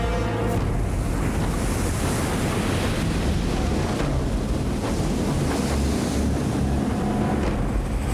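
Heavy wind and crashing waves in a squall on rough open sea aboard the lighthouse ship Pharos, a dense, unbroken roar of surf and gusts close to the microphone, with no one speaking.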